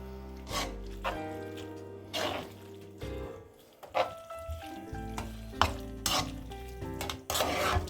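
Al dente bucatini being stirred into an Amatriciana sauce in a pan, with repeated wet scraping and sloshing strokes over a steady sizzle, close and fairly loud, no talking.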